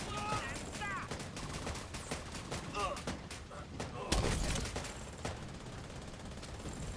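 Rifle gunfire in a video game comes as rapid, sharp bursts of shots repeated through the clip, punchy and close, with a voice talking over it.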